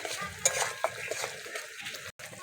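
Spice paste with chili and turmeric powder frying in released oil in a pan, soft sizzling under several sharp clinks and scrapes of a spoon stirring, close and brief, with no talk.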